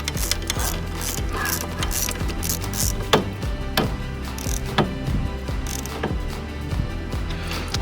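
A Ninja 400 kickstand bolt is tightened with a ratchet, giving repeated close clicking strokes and metallic taps in an irregular rhythm at moderate level.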